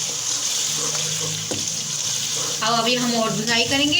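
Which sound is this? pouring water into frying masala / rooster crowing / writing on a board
pouring water into frying masala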